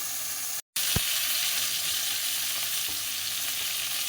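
Vegetables such as green banana, ridge gourd, okra and potato frying in a pan for a spicy curry, a dense continuous loud sizzle with a brief break near the start and a faint clink.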